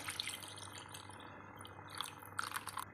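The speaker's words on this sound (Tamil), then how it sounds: "அந்த ஆறு கப்பு தண்ணி நான் இப்போ இதில் சேர்த்துக்கிறேன்" Water is poured into a pot of rice for chicken biryani, a quiet, steady trickling and splashing that grows a little brighter toward the end, with no one speaking.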